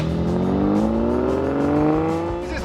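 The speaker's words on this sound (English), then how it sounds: "This is like the real quintessential early Ferrari V12." 1963 Ferrari 250 GTE with its early V12 engine revving up: a smooth, rising multi-toned howl climbing steadily in pitch, loud and close from inside the car.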